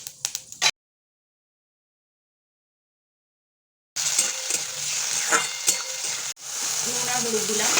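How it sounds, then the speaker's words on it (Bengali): Dried red chillies and five-spice frying in hot oil, a short burst of sizzle, then a gap of silence, then a sustained crackling sizzle with a brief break near the end. "তেলের মধ্যে 2টো লঙ্কা দিয়ে দিলাম, এই শুকনো লঙ্কাটা ভেজে তুলে নেব"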